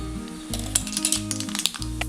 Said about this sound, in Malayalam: എണ്ണ ചൂടായി കഴിയുമ്പോൾ 1/2 ടീസ്പൂൺ കടുക്